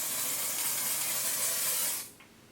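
Dior Airflash airbrush foundation hisses out as a fine mist onto a face, one steady close spray lasting about two seconds before cutting off abruptly.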